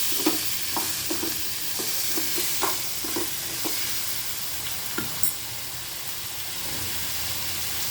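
Onions and tomatoes sizzle in a pan with a steady frying hiss while a utensil scrapes and taps through them in irregular stirring strokes, close by.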